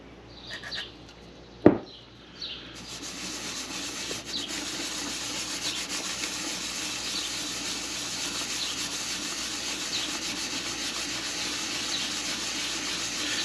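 A homemade metal surface gauge lapped on lubricated 220 grit sandpaper: a sharp knock, then continuous scratchy rubbing strokes in a steady back-and-forth rhythm, close and moderately loud.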